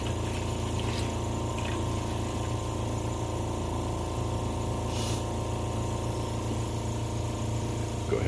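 A milking machine pump hums loudly and steadily as it sucks warm water through the lines, a constant mechanical drone with a few faint gurgles on top and no pauses.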